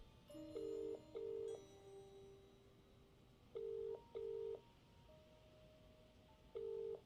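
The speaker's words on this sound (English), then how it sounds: "I think that's a busy tone." Busy tone from a phone booth receiver in the game Contradiction, repeating short beeps in pairs with steady gaps, faint and alone.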